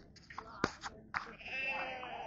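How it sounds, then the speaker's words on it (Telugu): Goats at a goat market bleat in a few short, sharp calls close by, followed by a longer wavering bleat over a noisy background. "ఇవన్నీ మేకలు మేకలు మేకలు మేకలు మేకలు."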